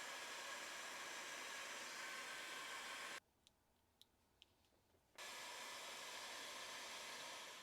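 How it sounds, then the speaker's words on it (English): Heat gun blowing hot air onto heat shrink tubing over wire connections during a Toyota Sienna radio install, a steady loud rushing hiss that cuts out briefly for about two seconds with faint ticks before resuming. "next we're going to shrink them down with our heat gun"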